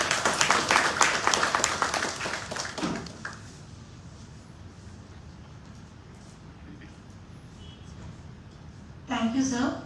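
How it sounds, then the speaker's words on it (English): An audience at the Geriatric Seva Rathna Award 2022 ceremony claps loudly for about three seconds, then the applause fades into quieter room noise, with a short burst of sound near the end. "I request the audience to give a big round of applause for Dr. Arvind Mathur"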